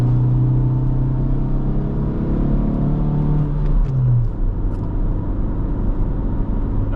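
A Honda Civic towing a loaded trailer accelerates, with a loud steady engine drone and road rumble; the engine note climbs, then drops as it shifts before settling into a constant cruising roar.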